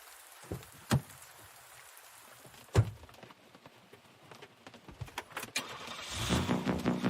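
A car door thuds shut a couple of times, then an engine cranks and turns over, rising into a rumbling idle at the end.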